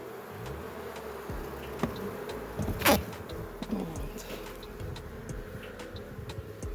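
Honeybees from a stray swarm buzz on hive frames in a steady low drone, with individual bees passing close by now and then. A louder buzz rises briefly near the middle, with no voices.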